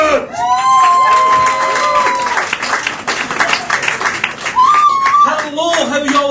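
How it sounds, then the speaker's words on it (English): Live comedy club audience at Whistlebinkies erupts in sustained clapping, whooping and cheering, loud and dense throughout, with shouted whistles and a voice cutting through near the end. "I want you to whoop and cheer him like a fucking crazed Chippendale"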